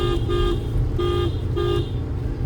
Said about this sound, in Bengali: প্রতিটা ব্যাকে ব্যাকে কিন্তু হচ্ছে হর্ন মারতেই হয়